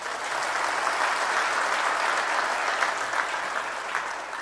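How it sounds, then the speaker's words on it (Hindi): An audience at a religious court gathering claps without a break, a dense and steady applause from many hands across the whole stretch, heard with no one speaking. "ताली तो बजा दो।"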